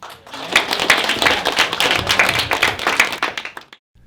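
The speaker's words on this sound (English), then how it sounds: "Welcome all the actors with a round of applause" Audience applause welcoming the actors at a short-film presentation, close and loud, many hands clapping in a dense, lively burst that swells quickly and stops abruptly.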